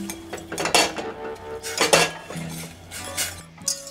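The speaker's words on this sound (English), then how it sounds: "We're just gonna heat that up and whisk it." Whisk clinking against a metal pot while stirring honey and lemon juice, sharp intermittent metallic taps and scrapes at close range, with no talk.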